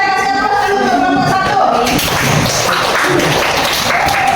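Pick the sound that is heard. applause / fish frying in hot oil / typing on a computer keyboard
applause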